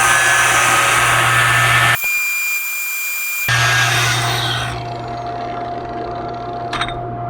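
Angle grinder with a used disc grinding a 3/4-inch piece of metal, loud harsh close grinding that cuts out briefly, resumes, then spins down into a fading whine with a short scrape near the end.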